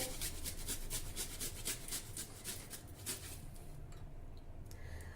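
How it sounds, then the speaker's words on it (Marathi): Fresh ginger, about a two-inch piece, rubbed against a grater for a homemade lemon drink, giving a steady run of close, rhythmic rasping strokes that ease off near the end. "त्यानंतर दोन इंच आल्याचा तुकडा आलं आपल्याला किसून घालायचं आहे"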